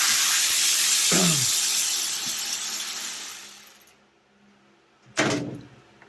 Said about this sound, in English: I have a T25 Torx bit, and that's what's holding this bolt right here, this one single bolt.